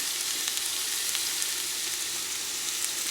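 Onions frying with salt in a pan for chicken biryani, a steady close sizzle with fine crackling spits that runs unbroken with no voices.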